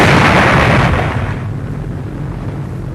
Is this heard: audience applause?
no